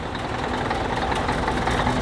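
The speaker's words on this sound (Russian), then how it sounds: "Заглушите мотор, пожалуйста." A car engine idles steadily at a traffic stop, a constant low rumble with no breaks or voices, filling the short stretch at close range.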